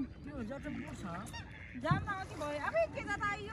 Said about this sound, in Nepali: ठुलो हाँस पो आयो त बल्ल आयो राजा हाँस बल्ल आयो